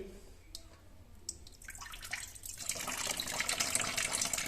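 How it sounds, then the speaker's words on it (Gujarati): Water running from the tap of an instant mini water geyser, a soft hiss that swells as the flow is opened up to full pressure, growing steadily louder toward the end. "એકવાર હું ફૂલ નળ કરી દઉં છું, એ તમને ખ્યાલ આવે કેટલું પાણીનું પ્રેશર આવે"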